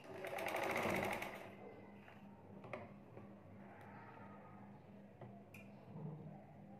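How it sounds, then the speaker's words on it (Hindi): Sewing machine stitching the folded seam of a baby girl's dress, a short loud burst of rapid needle clatter at the start, then quieter ticking mechanical sounds and handling of fabric close by. "यहाँ सिलाई लगा लेंगे"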